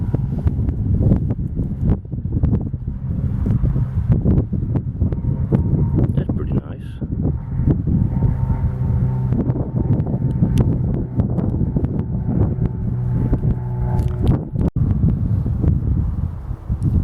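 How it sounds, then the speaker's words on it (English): Strong wind buffeting outdoors on a sunny day while hunting shark teeth in Marion, South Carolina, a loud, continuous roar with gusty microphone rumble throughout, a voice talking over it now and then. "That wind has just picked up real good."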